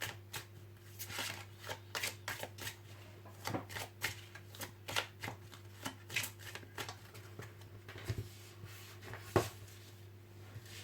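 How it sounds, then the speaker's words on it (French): Oracle cards are shuffled and drawn for about ten seconds, giving steady papery riffles and soft slaps at close range with no talking, over a constant low electrical hum. "Alors je vais tirer 3 cartes tout d'abord."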